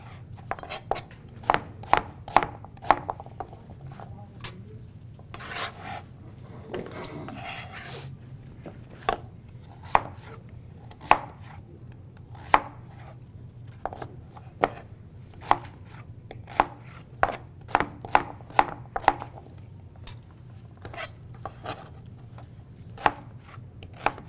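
Carrots and other root vegetables being cross-cut on a cutting board for roasting, a long run of crisp, close knife chops in uneven bursts with brief pauses between them.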